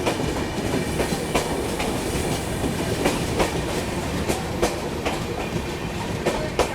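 Patna Kota Express with red LHB coaches running past, a continuous rushing roar with rhythmic clickety-clack of wheels over rail joints, steady and fairly close.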